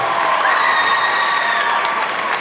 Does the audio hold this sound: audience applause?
yes